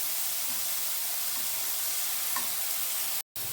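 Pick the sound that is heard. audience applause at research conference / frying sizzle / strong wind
frying sizzle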